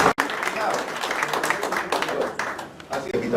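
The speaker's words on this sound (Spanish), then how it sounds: "Aquí pido un fuerte aplauso." Audience at a book presentation in a school giving a burst of applause, moderately loud and uneven clapping that swells and dips, with some talk blended in.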